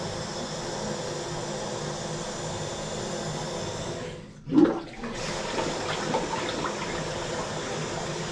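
A plugged-up toilet flushes with a wad of paper: a steady rushing hiss of water drops away briefly, then a sharp gurgling surge is followed by the bowl refilling with a constant wash of running water.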